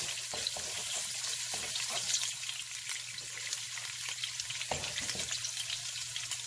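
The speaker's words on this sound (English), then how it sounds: "Okay, and now what we're gonna do is fry it up" Leftover noodles with chopped fresh garlic fry in oil for a stir fry, giving a continuous close sizzle. Occasional soft clicks and scrapes of stirring break through, and no one speaks.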